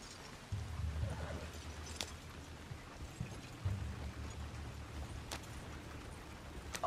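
Horse being ridden in Red Dead Redemption 2 near Pronghorn Ranch, low rumbling hoof thuds and movement noise with a couple of sharp clicks, steady and close, no talking.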